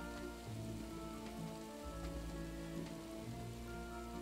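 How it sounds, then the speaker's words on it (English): Steady drizzling rain in the video game Trine 4, a soft continuous patter of drops on surfaces layered over faint game music, low in level and with no talk throughout. "It's drizzling."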